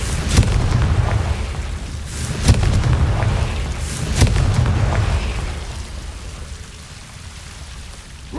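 Confringo blasting curses go off in Hogwarts Legacy, several sharp explosive bursts spaced a second or two apart over a constant hissing, rain-like ambience.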